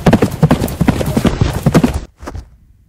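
Hooves of a horse clip-clop in a Roblox video game, a quick loud run of regular beats for about two seconds before cutting off, followed by a brief faint trailing sound.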